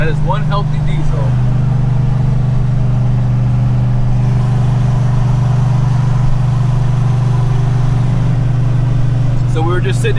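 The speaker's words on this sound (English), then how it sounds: "That is one healthy diesel." A lifted diesel pickup on 38-inch tires idles in traffic with a deep, steady, loud rumble that holds constant throughout, while someone speaks briefly at the start and again near the end.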